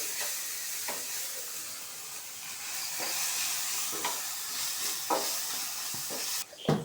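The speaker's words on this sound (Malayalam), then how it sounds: "ഗരം മസാല 1 സ്പൂൺ. ഇതെല്ലാം മിക്സ് ചെയ്യാം." Garam masala and a spice mix being stirred in a hot pan, with a steady sizzle of frying throughout and periodic scraping strokes of the spoon against the pan, ending in a louder clatter.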